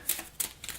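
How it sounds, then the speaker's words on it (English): Large explorer cards from the board game In Tenebris Lux being shuffled, a few quick papery riffles in close succession, near and clear. "So I'll grab these big explorer cards, shuffle them"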